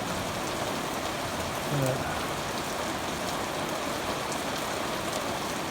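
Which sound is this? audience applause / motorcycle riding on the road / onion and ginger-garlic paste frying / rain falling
rain falling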